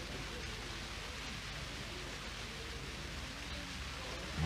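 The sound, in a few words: rain falling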